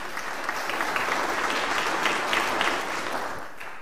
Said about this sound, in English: Should we just give him a little round of applause?